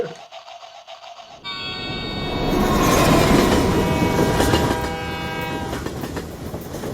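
A slow green passenger train in China's Daliang Mountains rumbles loudly nearby with a sustained horn blast, the wheels clattering and the roar swelling then easing as it passes.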